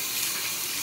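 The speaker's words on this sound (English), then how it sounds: "so you guys can see washing my hands is very important" Water streams steadily from a bathroom tap during handwashing, a soft, even hiss that runs without a break for the whole short stretch.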